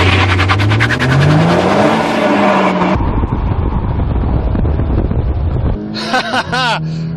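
A VW T-Roc R launches hard under launch control with four-wheel drive in a track drag race against a Honda Civic Type R. Its engine note climbs steadily in pitch, then gives way to a loud rushing roar with wind buffeting.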